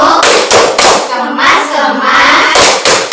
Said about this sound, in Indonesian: Sebelum kita pulang, kita tepuk pulang dulu yuk.